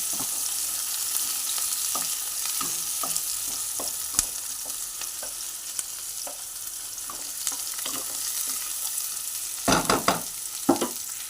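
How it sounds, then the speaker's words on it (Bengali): Chopped onions frying in oil in a pan for stuffed pointed gourd, with tomato added: a steady close sizzle runs throughout, broken by light clinks of stirring and a louder clattering burst near the end. "মোটামুটি ভাজা ভাজা হলে তারপর টমেটোটা আমি ছেড়ে দেবো"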